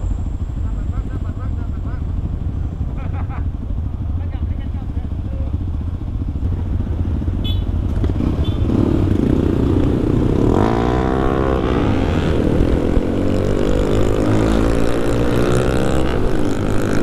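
A group of supermoto motorcycles rides together, engines droning loudly and continuously close by as several bikes pass and rev, with a rising whine of acceleration toward the end and voices talking over the noise.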